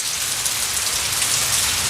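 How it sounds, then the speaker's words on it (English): Steady rain pattering on a surface outdoors, a continuous dense hiss with no gaps, fairly loud and close, heard alone with no voices. "The patter of rain falling outside."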